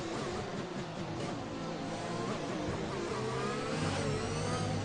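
Formula 1 race car engines in the F1 2021 game at the Mexico Grand Prix, several cars whining and rising in pitch together in a continuous, loud drone.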